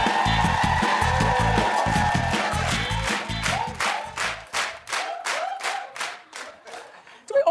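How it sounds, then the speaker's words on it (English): A studio audience claps in a steady, even rhythm of distinct, separate hand claps that grows sparser toward the end, over a brief stretch of talk and chuckling at the start. "Always have to clap the same way."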